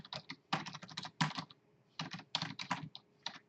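Close-up typing on a computer keyboard: irregular bursts of quick keystrokes with short pauses between runs, heard alone in a quiet room.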